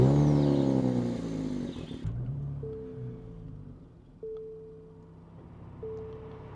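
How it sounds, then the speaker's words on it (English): A 2024 Nissan Z NISMO starting up, engine roar dropping off after about two seconds into a quieter idle, with a few short chime tones sounding in the cabin. "let's jump inside and start this baby up"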